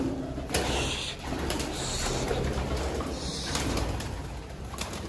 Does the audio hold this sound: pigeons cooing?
yes